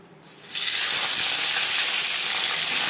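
A marinated fish head drops into hot refined oil and bursts into a loud, close, steady sizzle. A brief quiet moment comes before the hiss swells and holds.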